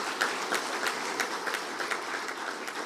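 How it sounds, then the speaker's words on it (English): An audience at an industry annual session applauds to welcome minister Nitin Gadkari, a dense, steady wash of many hands clapping at close range with no talk over it. "I would like all of us to welcome him with a very big round of applause."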